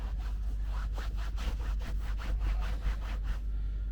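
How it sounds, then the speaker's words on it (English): A flat microfiber cloth is scrubbed firmly back and forth over a fabric car seat, giving a steady, close, rhythmic rasping swish with no talking. "I'm just going to use a flat type microfiber. And then I'm just going to go over, give it a nice rub, put some pressure in there."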